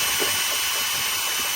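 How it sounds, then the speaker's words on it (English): Electric drill stirring 2 gallons of molasses into 3.5 gallons of hot water in a bucket, giving a steady, continuous whirring hum close by with no pauses, alone without talk. "I'm just gonna take my drill and"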